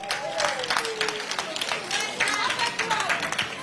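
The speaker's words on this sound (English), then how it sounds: "Let us clap for Uhuru." A crowd at an outdoor political rally in Maracha District claps for Uhuru, with dense scattered hand claps and a murmur of voices running underneath.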